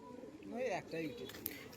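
A golden-colored male pigeon gives a soft, close, throaty coo in a couple of rolling phrases, with a person's voice audible around it.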